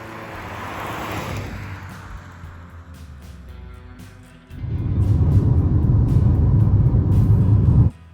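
A Suzuki Fronx GLX automatic compact car driving on tarmac, heard as a steady road rumble with engine and tyre noise that swells louder midway and continues evenly before cutting off.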